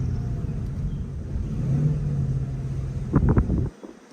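A Ford Mustang GT engine idles with a low rumble, then revs sharply a few times with crackling exhaust pops before cutting off abruptly.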